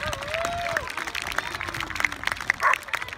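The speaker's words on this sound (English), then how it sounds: "Give him a big round of applause." Audience applause and crowd noise at an outdoor dog stunt show by a disc dog team, moderately loud and steady, with a dog's yips and an announcer's voice mixed in.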